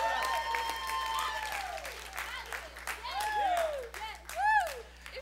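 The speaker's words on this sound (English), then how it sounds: "Give the Lord a big hand clap of praise." A church congregation claps continuously in praise while voices call out and whoop over it, the clapping rising in intensity toward the end.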